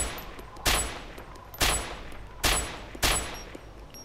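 SR-25 rifle shots in the DayZ video game crack out four times at an uneven rhythm, each sharp report followed by a short decaying tail, loud and close.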